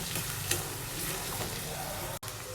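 Onions and whole garam masala sizzle in hot oil for mutton curry, a close, steady frying hiss with stirring scrapes and a brief dropout near the end.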